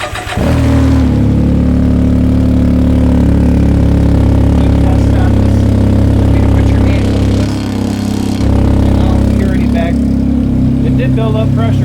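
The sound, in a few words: Can-Am Ryker engine starting and revving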